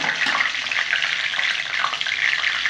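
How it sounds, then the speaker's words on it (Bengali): Whole spices for a masoor dal khichuri tempering fry in oil, a loud, continuous close sizzle with a dense hiss throughout. "ভালো করে এটা আমি ফোড়নটা ভাজা ভাজা করে নিচ্ছি।"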